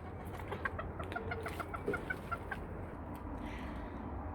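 Two broody Serama hens sitting on their nest give soft, repeated low clucks in a short, quiet burst, close by with no talk.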